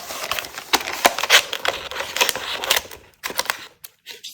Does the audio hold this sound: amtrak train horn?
no